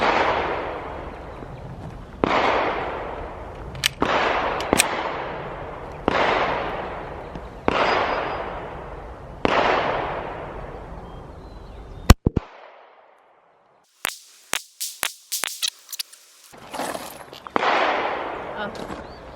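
Loud, sharp gunshots from a Smith & Wesson Equalizer pistol, fired one at a time at a steady pace of roughly one every second or two. Each shot leaves a short ringing tail. A brief stretch of clattering handling noise follows, then one more shot.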